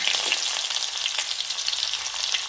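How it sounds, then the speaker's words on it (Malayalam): Mustard seeds spluttering in hot oil for a vegetable dish, a dense steady crackle of tiny pops close by, continuous throughout with no voices. "കടുക് ഇട്ടിട്ടുണ്ട്. കടുക് വറക്കാം."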